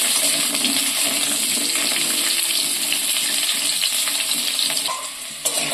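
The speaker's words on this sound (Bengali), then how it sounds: "আলুগুলো নিয়ে একটু তেলের মধ্যে নাড়াচাড়া করে ভালো করে ভেজে নেবো লাল লাল করে" Potato pieces fry in hot oil and get stirred around, a steady bright sizzle with scraping stir sounds running throughout, close and loud, easing slightly near the end.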